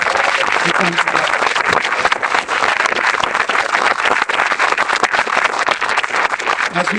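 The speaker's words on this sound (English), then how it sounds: "let's give a big round of applause to all of our amazing educators and our staff" Audience applauding educators and staff at a school district's Celebration of Excellence evening, a dense, steady wash of many hands clapping throughout, loud and close with voices mixed in underneath.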